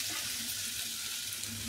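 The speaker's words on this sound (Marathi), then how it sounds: "इकडे मी भेंडी फ्राय करायला ठेवले बारीक गॅसवर" Okra fries in a pan over a low gas flame, giving a soft, steady sizzle and hiss that stays faint and even throughout.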